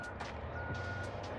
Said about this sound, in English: Look at this truck just spraying water out there to legally dampen the dust.